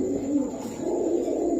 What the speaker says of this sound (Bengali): ভাই এটা একটা পুরান জাতের বাঘা কবুতর